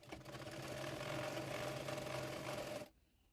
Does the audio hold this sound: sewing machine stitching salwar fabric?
yes